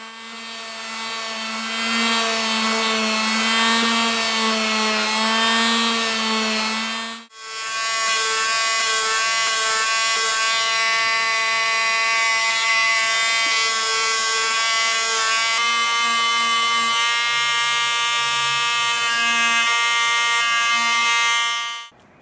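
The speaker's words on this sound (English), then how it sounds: "we'll start doing some sanding" A power sander whines loudly and steadily, stopping for a moment partway through before starting up again and running on with a high, humming buzz.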